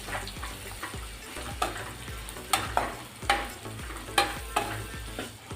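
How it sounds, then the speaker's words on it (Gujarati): Cluster beans (guvar) are stirred into spices in a pan, with a spoon or spatula knocking against the metal in a regular rhythm of soft clunks and scrapes over a faint, continuous sizzle. "ગુવારને પણ આપણે એડ કરી દેવાનો છે આપણે સારી રીતે મિક્સ કરી લઈશું"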